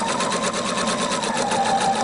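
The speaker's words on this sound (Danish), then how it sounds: "maskinen stopper med nålen nede" A sewing machine runs nonstop while stitching a zipper lining, a loud, close, even whir with a rapid needle pulse lasting the whole moment, with no speech.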